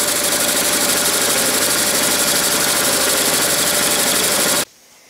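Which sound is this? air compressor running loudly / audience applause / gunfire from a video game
air compressor running loudly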